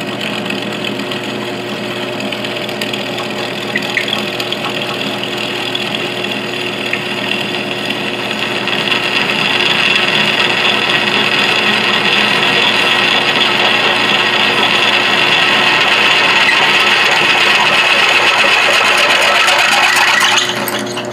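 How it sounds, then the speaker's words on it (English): A Grizzly mill drilling a large center hole, fitted with a spindle power feed, gives a steady close mechanical whine and hum that grows louder and fuller partway through, then runs on evenly with no talking. "Now I'm going to try to put a big hole in the center."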